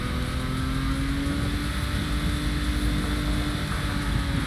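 A car engine in the video game Forza Horizon 5, Hot Wheels expansion, drones loud and steady throughout while driving, a continuous mechanical roar with no talking.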